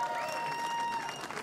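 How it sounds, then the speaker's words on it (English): A crowd applauds at the Nürburgring trackside podium of a Porsche Carrera Cup race, with moderate clapping under steady background tones. "Applause from Project One."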